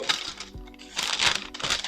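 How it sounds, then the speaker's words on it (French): Parchment paper crinkles and crackles in short bursts close up, rustling as it is handled, with no voices. "On a également une feuille de papier sulfurisé."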